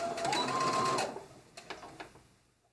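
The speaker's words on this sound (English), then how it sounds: "I'm going to go ahead with sewing very close to the edge." A sewing machine runs close to the edge of a maxi dress, one steady burst of stitching for about a second, then a few softer clicks and knocks as it slows and stops.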